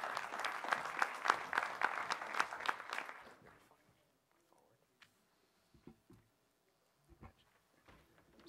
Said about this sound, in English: he deserves a round of applause just for that